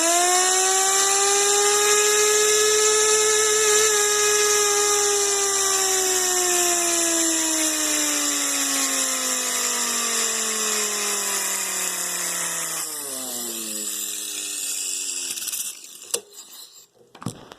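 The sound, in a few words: Harbor Freight 6-inch air orbital sander running on Ryobi compressor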